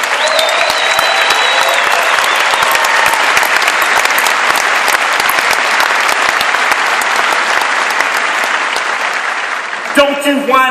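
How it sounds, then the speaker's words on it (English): A large audience at a church gathering applauds in a loud, dense, sustained wash of clapping with scattered cheers, tailing off near the end as a voice begins to speak. "Round of applause."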